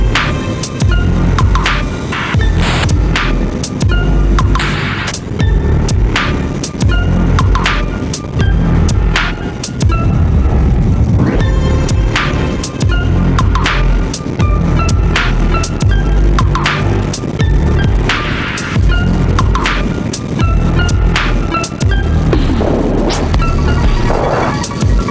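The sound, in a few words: KTM Duke motorcycle engine revving on back roads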